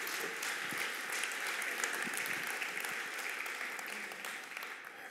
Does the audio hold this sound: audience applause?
yes